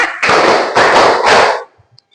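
A school class claps together in rhythm for a cheer, three loud, dense bursts of many hands clapping in unison, each lasting about half a second, then silence.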